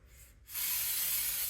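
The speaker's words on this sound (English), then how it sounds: "I just spray the bottom of it" Baker's Joy baking spray hissing from a can onto a pizzelle iron, one steady continuous spray starting abruptly and lasting about a second, close and alone.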